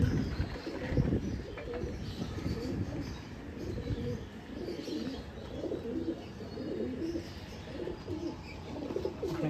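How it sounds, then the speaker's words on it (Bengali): Pigeons in a loft coo softly and continuously, with occasional chirps and faint wing rustles, all low and close with a steady background hum. "আর একটা মাদি পায়রা, এটাও ধাড়ি পায়রা।"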